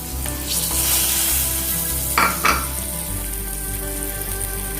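Boiled eggs fry in hot oil for an Indian egg curry, giving a steady, close sizzle throughout with a couple of brief scraping stirs midway and no voices.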